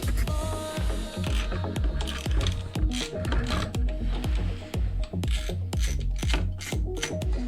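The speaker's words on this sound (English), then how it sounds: "Few bolts we gotta take out." Bolts being removed during a clutch replacement: a close run of rapid metallic ratchet clicks and clanks in quick bursts, ringing sharply from start to end with no voices.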